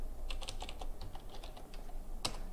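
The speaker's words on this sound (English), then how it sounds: "We have to type a very long command," Quick bursts of keystrokes on a computer keyboard as a long command is typed, an uneven clatter of a dozen or so presses with a sharper clack near the end, close and fairly quiet against a soft background hiss.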